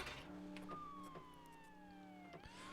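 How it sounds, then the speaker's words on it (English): A police car siren in True Crime: New York City wails with a falling, sweeping tone over engine hum during a driving test, fairly faint in the mix. "Turning on the siren makes cars get out of the way"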